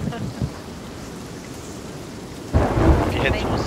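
A thunderstorm in the Sea of Thieves pirate game plays as a steady wash of rain. A heavy rumble of thunder breaks in near the end, and it is louder than the rain.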